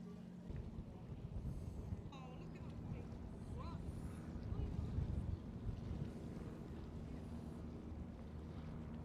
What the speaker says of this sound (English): you can hear like the chugging of the boats going along.